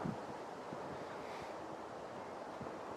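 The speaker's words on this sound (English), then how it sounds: "Big wind gust here" Strong outdoor wind gust blasting straight into the microphone in a backyard bonsai garden, a steady loud rumbling roar with no letup.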